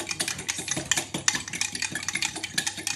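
Milk being whisked into the wet mix for blueberry muffins in a bowl, a fast steady rhythm of light clicking and scraping strokes, close and continuous.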